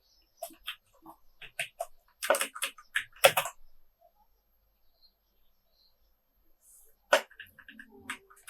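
Code being typed on a computer keyboard, clusters of crisp keystrokes in uneven bursts, then a pause before another short run of taps, close with no voices.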